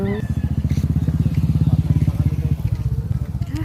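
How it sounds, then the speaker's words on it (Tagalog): Several motorcycles pass close by on a road in Bicol, a steady loud pulsing engine drone that holds for several seconds before easing slightly, with voices talking over it. "ang dami palang motor dito."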